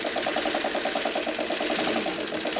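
Sewing machine back stitching a curved quilt seam for an inset circle, its needle hammering in a fast, steady pulse close up, with a continuous motor whir underneath.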